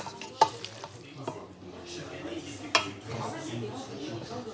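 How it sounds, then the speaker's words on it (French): Carbonara pasta stirred in a pan, soft wet squelching and scraping with a couple of sharp utensil knocks and a light sizzle, under quiet talk. "Et mélanger en même temps pour faire l'ASMR"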